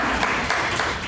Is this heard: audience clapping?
yes